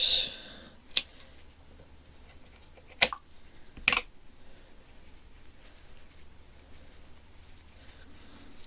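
Scissors cut through a double-knotted ribbon with a few sharp, close snips spaced apart in a quiet room.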